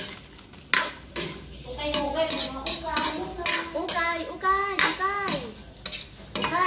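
Chopsuey vegetables stirred in a pan, with clattering and scraping of a utensil against metal and a soft sizzle underneath, while a voice sings or talks over the cooking.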